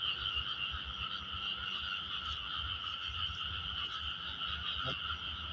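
A dense chorus of frogs croaks steadily during a flooding rain, the calls layered and continuous from start to finish with no voices over them.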